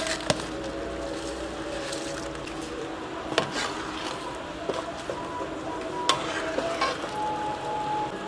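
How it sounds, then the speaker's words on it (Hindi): Soaked raw basmati rice tipped into a pot of boiling salted water for Kabuli pulao, a steady bubbling hiss with scattered clinks and stirring knocks throughout, no voices. "अभी हम इसमें चावल शामिल करेंगे। कच्ची बासमती 1 किलोग्राम जो हमने 15 मिनट पहले भिगो के रखे थे।"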